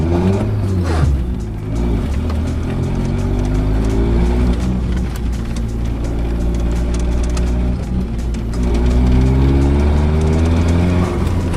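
An Eagle Talon with all-wheel drive accelerating hard, heard from inside the car, loud engine revving up through rising gear pulls with a shift dip around the middle, continuous and close.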